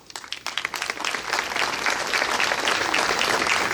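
Audience at a book event in Acıpayam breaks into applause, starting with a few scattered claps that swell quickly into loud, dense, sustained clapping.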